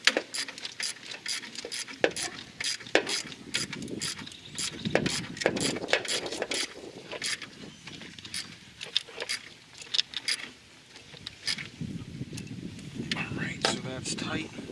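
A ratchet tightens the alternator bolt on a 1997-2001 Jeep Cherokee XJ with the 4.0 engine. It gives a long run of sharp, close metallic clicks in uneven bursts, with soft workshop handling noise between them.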